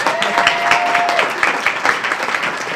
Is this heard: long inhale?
no